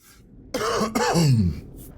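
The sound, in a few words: cough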